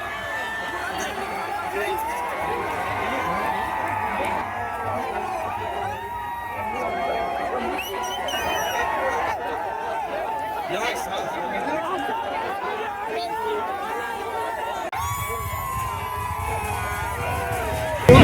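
Crowd of supporters celebrating a BJP municipal council election win in Washim, a dense, continuous mix of chatter, shouts and cheering voices outdoors, steady throughout.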